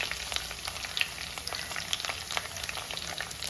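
Chopped ginger and garlic fry in hot oil for a Kerala-style kingfish curry, giving a steady close sizzle dotted with sharp crackles and pops, with no voices.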